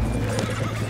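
Horses neigh and gallop with loud, continuous hoofbeats close by in the Red Dead Redemption 2 video game, with no voices over them.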